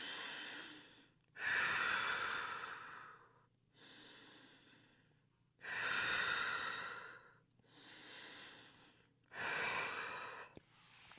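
Deep, loud breathing during a beginner Pilates back-strength workout: five long breaths, each a drawn inhale and a slow, audible exhale, close to the microphone with short quiet gaps between them and no talking.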